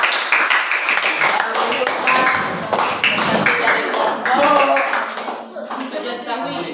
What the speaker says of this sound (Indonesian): Iya, tepuk tangan untuk kelompok.